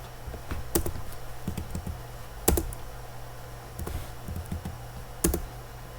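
Computer keyboard typing in short bursts of quick, light clicks separated by pauses, close and fairly quiet, with no voices.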